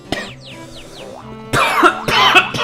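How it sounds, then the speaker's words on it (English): A person coughs in two harsh, loud bursts, following a stretch of quieter whistling, sweeping electronic tones from a Yoshi's Story game. "Now I'm just gonna cough to death."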